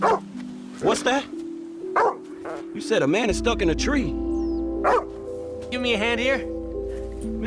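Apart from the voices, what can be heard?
dog barking in a video game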